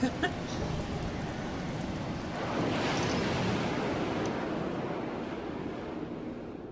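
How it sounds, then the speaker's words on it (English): Steady rushing wash of video game surf, like waves breaking and rolling in, continuous throughout with a slight swell in the middle. "Sound like waves crashing, I guess?"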